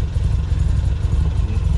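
A Toyota Corolla 1.8L engine fitted with aftermarket carburetors idles steadily, a close, dense low rumble with a fast, even pulse and a faint light clatter, with no voices.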